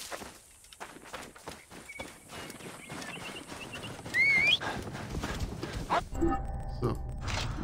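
Horse hooves clip-clop in Assassin's Creed Origins, a steady run of soft hoofbeats under game ambience, with brief chimes and other sound effects layered over it.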